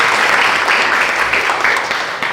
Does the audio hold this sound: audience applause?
yes